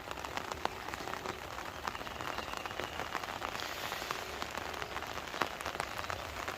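Steady rain falls over a flooded village, a constant hiss of drops on water and surfaces with occasional sharper splats, no voices.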